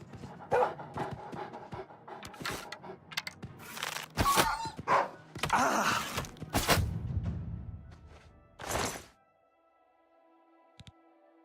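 Dog panting in the game Oblivion Remastered, a run of quick rhythmic breaths with other game sounds and bursts through the middle, trailing off into near silence at the end.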